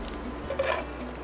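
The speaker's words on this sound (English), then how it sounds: "Now we're going to also shave these spring onions." Spring onions and fennel being shaved on a blade, a brief burst of light scraping and rasping in the middle of otherwise quiet kitchen room tone.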